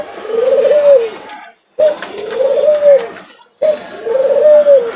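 Dove cooing nearby in three repeated phrases, each a low, soft rolling call about a second and a half long, separated by brief pauses, with no talk over it.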